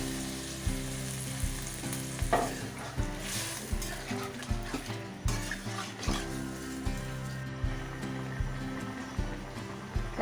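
Winter vegetables and puti fish curry frying and sizzling in a pan after water is added, a steady close bubbling sizzle with periodic stirring scrapes and a rhythmic low background pulse.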